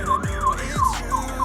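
Warning alarm at the Chuquicamata copper mine in Chile, a loud close electronic siren sweeping up and down in a fast repeating wail, with no talking.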